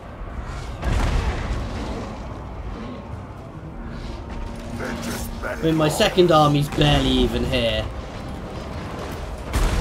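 Hell cannon artillery in Total War: Warhammer 2 booms and rumbles in a dense battle mix of heavy impacts and clatter, with someone talking over it throughout.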